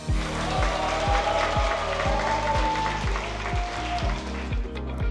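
Students cheer and clap as a book concert begins, steady applause filling the hall while a repeating low rhythmic beat pulses underneath.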